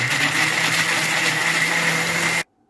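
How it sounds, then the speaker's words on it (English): A blender whirs steadily at high speed blending tomatoes and peppers, a constant motor hum for a couple of seconds, then abruptly shuts off into silence. "Now, I blend some tomatoes,"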